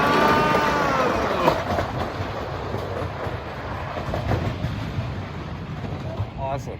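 Leap The Dips, the world's oldest roller coaster at Lakemont Park, runs its figure-eight track, giving a steady mid-distance rumble and clatter of cars on rails throughout, with brief voices audible.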